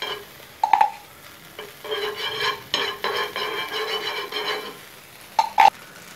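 Butter melts and softly sizzles in a pan while making eggy French toast snacks, broken by a few sharp utensil clinks against the pan and scraping stirs. The sound is close, and no one talks.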